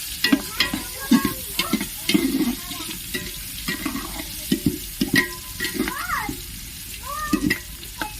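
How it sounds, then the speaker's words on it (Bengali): Onions fry in a pan for khichuri, loud sizzling broken by repeated scraping stirs of a spatula against the pan, close and rhythmic, with no talking. "পেঁয়াজটা দিয়ে দিয়েছি, খুব ভালো করে এটা ভেজে নেব।"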